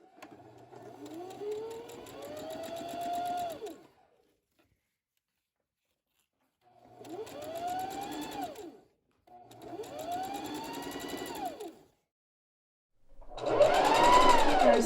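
A sewing machine stitches a French seam on wrap pants, running about 1/8 inch onto the fabric. It whirs close and steady in three separate bursts with quiet pauses between, followed by a short louder rustle.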